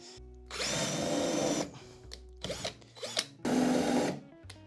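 A power drill drives screws into a wooden slat wall panel, sounding as two loud whirring bursts with a short, uneven stretch of quieter drilling between them. It is close and clear, with no talking.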